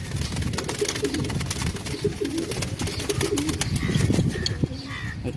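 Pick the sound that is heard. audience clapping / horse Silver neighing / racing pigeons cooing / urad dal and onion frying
racing pigeons cooing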